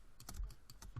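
Computer keyboard keys pressed during logo design work in Adobe Illustrator CC 2014, about five quick separate clicks in a steady rhythm, close and clear, with no voices.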